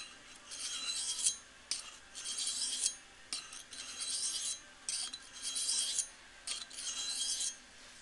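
A knife edge drawn across a sharpening stone with light pressure to weaken and remove the burr, about eight close, soft rasping strokes in an even back-and-forth rhythm separated by brief pauses.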